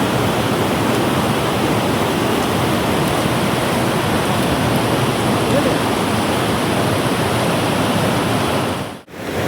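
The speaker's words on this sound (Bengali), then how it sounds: "আর জলের স্রোতটা দেখো, বাপরে বাপ, প্রচুর, বাবারে প্রচুর জলের স্রোত।" A strong, fast river current rushes in a loud, dense, unbroken roar of turbulent water, close by, steady throughout with a brief dip near the end.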